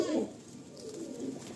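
Pigeons in a breeding loft giving low, soft coos, a brief, gentle murmur at close range with no talking.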